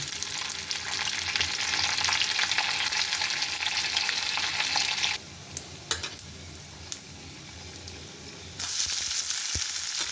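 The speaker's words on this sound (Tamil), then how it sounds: "இது நல்லா வறுப்பட்ட உடனே நம்ம வெங்காயம் போட போகிறோம்." Chana dal and urad dal frying in oil in a pan for rava upma, a steady loud sizzle that drops to a quieter crackle midway with a few sharp pops, then swells loud again at the end.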